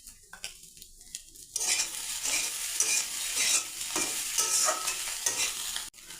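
Ground chili, coriander and cumin powders stirred while frying in a pan for a fish-head dish: near-silence gives way to a loud, busy sizzle with repeated scraping stirs and a brief clatter near the end.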